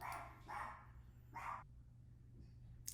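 A household dog barks at a delivery in three loud, sharp barks spaced about a second apart, close by over a steady low hum, then a faint yip and a click.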